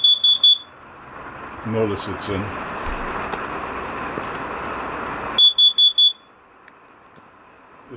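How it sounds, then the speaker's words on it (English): A carbon monoxide alarm going off inside a sealed 2018 Rockwood Minilite 2104s travel trailer, sharp high beeps in short bursts of four, near and loud, separated by a stretch of someone talking over an air hum. "I'm standing in here with the CO2 alarm, or the CO alarm going off."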